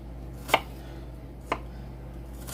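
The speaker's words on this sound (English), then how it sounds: "I'm just going to continue to chop up this onion" Three sharp knife chops through an onion on a cutting board, evenly spaced about a second apart, crisp and close against a quiet room hum.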